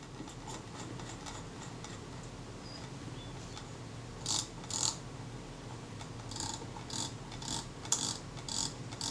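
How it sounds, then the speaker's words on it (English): Faint clicking of the end-of-film lock ratchet on a Kodak Retina Ia camera under repair, a few short bursts of clicks standing out from steady background noise. "the ratchet for the end of film lock is working"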